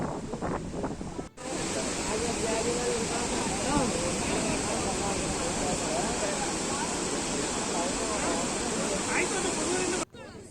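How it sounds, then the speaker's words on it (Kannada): Barachukki waterfall at Shivanasamudra in Mandya pours in a steady, dense roar of falling water that fills the scene, cut off briefly at both ends, with wind rushing over the microphone. "ಇಲ್ಲಿ ಎಲ್ಲ ಕಡೆ ನೀರು ಬೀಳ್ತಾ ಉಂಟು"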